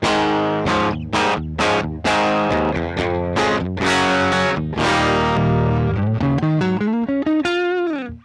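Electric guitar played through a NUX Amp Academy amp capture with added cabinet and reverb switched off, giving a dry, distorted tone of strummed chords and picked notes that ends on a sustained bend, loud and alone.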